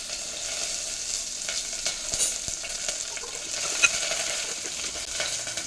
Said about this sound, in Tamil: பட்டையும் சோம்பும் ஓரளவுக்கு நல்லா பொரிஞ்சு வரணும்.